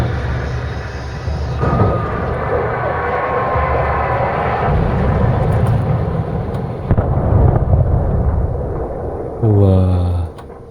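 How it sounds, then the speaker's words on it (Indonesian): In the Alan Wake game, a helicopter is torn apart by swarming demonic birds: a loud roaring rumble with crashing bursts and rising mechanical whine, ending in a sharp loud hit, under game voices. "Wah, langsung hancur loh helikopternya."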